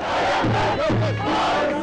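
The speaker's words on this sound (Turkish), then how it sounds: "Liseli genç dışarıda davul zurnalarla ve tezahüratlarla karşılandı." A crowd cheers and shouts outside to welcome a teenage boy released from custody, with davul drums and zurna pipes. The cheering is loud and continuous, with wavering pipe-like tones rising over the clamour.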